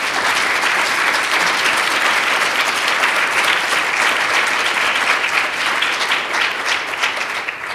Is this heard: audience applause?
yes